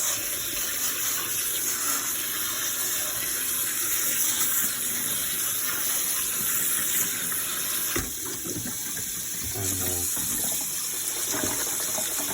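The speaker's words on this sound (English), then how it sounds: "go ahead and throw them in a strainer, and we're going to go ahead and wash them with some cold water" Cold tap water runs steadily over fiddleheads in a strainer at a sink, a continuous close splashing and gushing that lasts throughout, with a few louder clattering spurts near the end.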